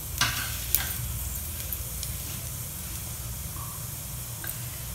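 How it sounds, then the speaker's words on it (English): Cumin seeds sizzle in hot oil in a pressure cooker: a steady, moderately quiet crackling hiss with a few sharp pops near the start and no talk. "Taken 2 tablespoons of oil in a pressure cooker, allowed it to heat. Now to this, add 1 teaspoon of jeera or cumin"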